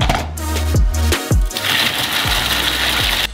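A mixer grinding hazelnuts, sugar and cocoa mass into paste runs loudly with a rhythmic mechanical chugging and periodic knocking thumps, a continuous motor drone with a brighter whirring rising in the second half.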